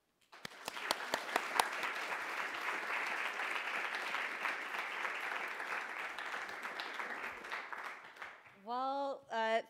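At a university philosophy lecture, an audience applauds to welcome Professor O'Connor: warm, steady clapping from a full room that builds quickly, holds for several seconds and fades as a voice begins speaking.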